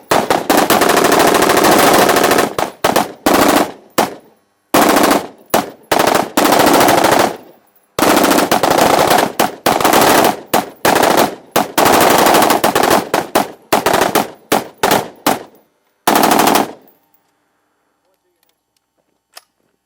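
Rifles fire at a military range for a peacekeeping unit, with dense, loud bursts and rapid strings of close shots broken by short pauses before everything falls silent near the end.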